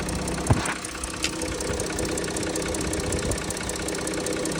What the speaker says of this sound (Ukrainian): Так, двигун заведений.